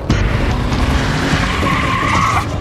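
A car drives and skids in the video game Tales From The Borderlands: a loud, continuous engine roar with sustained tire screeching throughout, with no voices.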